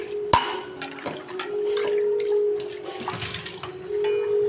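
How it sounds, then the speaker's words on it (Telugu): Water pours steadily into a burnt pot being cleaned, with a continuous splashing rush and a sharp clink near the start, close by with no voices. "చూడండి వాటర్ అయితే వేసేస్తున్నాను"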